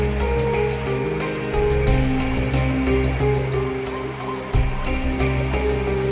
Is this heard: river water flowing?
yes